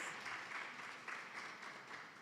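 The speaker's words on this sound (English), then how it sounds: "You can give yourselves a round of applause, yes." Audience applause at a Founders' Day lecture, a steady, even wash of clapping from a crowd that carries on without pause and without speech.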